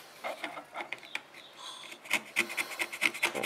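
Close, scratchy rasping of a tool scraping compound off a component inside a Netgear 8-port network switch, in short irregular strokes that grow denser and louder toward the end.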